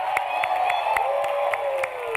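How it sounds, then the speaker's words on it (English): Crowd applause and cheering for graduates at the USC Leonard Davis School of Gerontology 2024 commencement ceremony, a steady sustained roar of clapping with scattered whoops filling a large space. "Let's give them one more round of applause."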